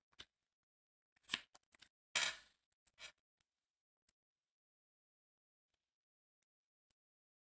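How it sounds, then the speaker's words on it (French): Tarot cards are drawn and laid down from a deck in a few quick, close, crisp rustles and slaps, followed by scattered faint ticks and taps. "je vais tirer 5 cartes."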